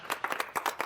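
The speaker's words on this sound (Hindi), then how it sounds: "बात पे ताली।" Several quick hand claps in a short uneven burst on the set of the Hindi TV comedy Bhabi Ji Ghar Par Hai, fairly close and moderately loud with no talk.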